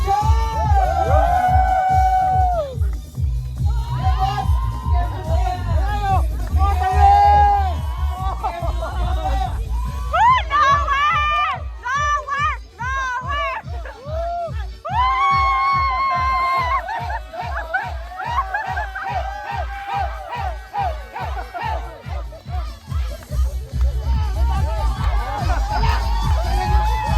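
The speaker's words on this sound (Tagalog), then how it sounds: "Isang sigawan naman dyan!" A crowd at a festival in Nasugbu, Batangas shouts and cheers over loud music, with a strong rhythmic beat and an amplified voice on a microphone carrying throughout.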